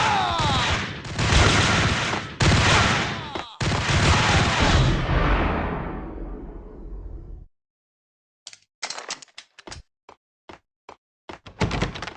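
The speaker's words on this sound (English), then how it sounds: "Shoot the bastard!" Loud gunfire in the Max Payne Mobile video game: dense bursts of shots ring out for several seconds and fade, then after a short silence a scatter of sharp single shots and clicks follows.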